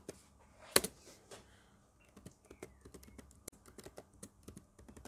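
Typing on an HP Stream 14 laptop keyboard, bursts of quick light key clicks following one sharp louder tap, close and fairly quiet, without speech.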